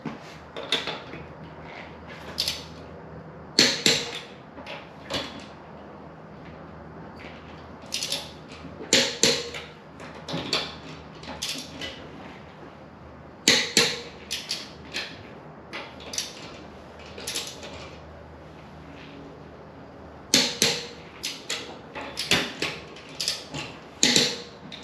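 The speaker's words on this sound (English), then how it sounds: "Okay, so then we'll torque the lug nuts to 100 foot-pounds." A torque wrench tightens lug nuts on a Dodge Grand Caravan wheel, with sharp ratcheting clicks in bursts separated by short pauses, close and clear over a quiet garage background.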